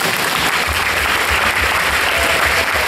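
An audience at an evening event bursts into loud, dense applause, many hands clapping continuously and close, with no voice over it.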